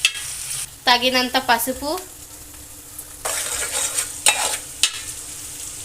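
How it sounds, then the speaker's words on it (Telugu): Onions frying in a hot pan with a constant sizzle and scraping stirs and clinks, while someone speaks at the start and again briefly later. "వేడైన తర్వాత ఆనియన్స్ అయితే వేసుకోవాలి."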